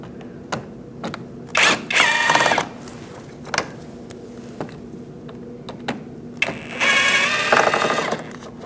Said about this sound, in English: Using a 7mm socket, we're going to take out the bolts underneath to remove our fender liner.